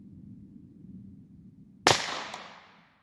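A percussion cap fires once with a sharp, loud crack that rings out and decays, following a stretch of quiet background noise.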